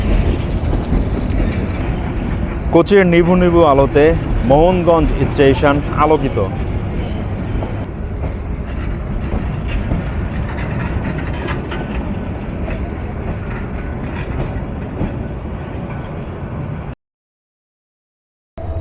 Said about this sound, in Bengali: মোহনগঞ্জ স্টেশনে প্রবেশ করলো train number 789 intercity up Mohanganj express.